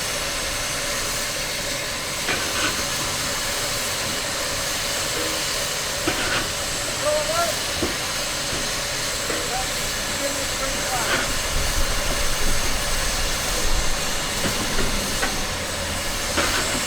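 Steam locomotive 53808, recently refurbished, at the West Somerset Railway spring steam gala, a continuous hiss of steam with faint mechanical knocks and clanks under a loud ambient rumble; a voice talks over parts of it.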